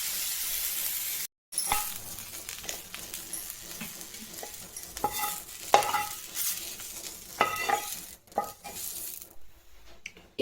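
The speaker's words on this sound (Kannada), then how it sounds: "ಇಷ್ಟು ಸೊಪ್ಪು ಬಾಡಿಸ್ಕೊಂಡ್ರೆ ಸಾಕು." Ondelaga greens sautéing with roasted spices in a pan: a soft sizzle beneath repeated close scrapes and clinks of a stirring spoon against metal, with no talking.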